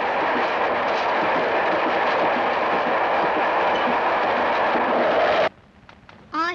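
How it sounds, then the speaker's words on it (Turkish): A train runs on rails with a loud, steady rumble and rattling clatter that carries on without a break, then drops away abruptly near the end, leaving quieter background. "Şimdi karşı yola tren gelir."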